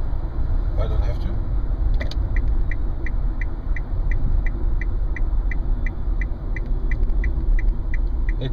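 Passing cars sweep by outside a near-silent Nissan LEAF electric car on the road around Mission Viejo, a steady broad rumble of traffic with a regular faint ticking, likely the turn signal, running throughout.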